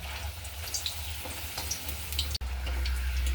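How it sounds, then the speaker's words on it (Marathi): Leftover chapati pieces fry in hot oil, making a continuous close hiss and crackle over a low hum, with a brief dropout partway through. "हलकासा सोनेरी रंग येईपर्यंत या चपात्या या पद्धतीने तळून घ्यायच्या"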